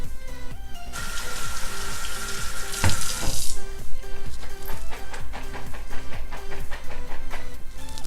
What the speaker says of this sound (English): so a quick rinse on the beans